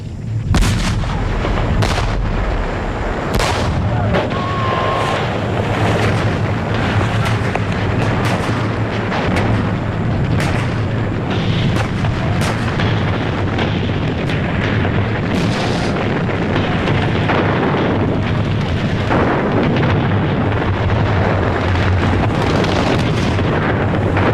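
Heavy artillery fire and explosions from the 1954 assault on the French stronghold of Dien Bien Phu: loud, dense, continuous booms and sharp blasts overlapping one another, with a rumbling low roar throughout.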